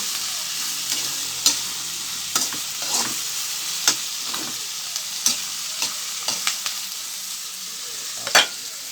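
Food frying in a pan is stirred with a utensil, giving a steady sizzle broken by sharp scrapes and clinks at irregular intervals, close by and with no voices.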